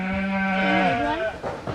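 A black ewe bleats loudly and close at lambing time, one long wavering call that trails off, followed by brief rustling and movement in the pen.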